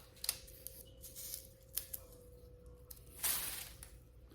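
Scissors snipping dry onion tops during harvest and curing, a few quiet, sharp close cuts spread over several seconds, the last one a longer crunchy snip.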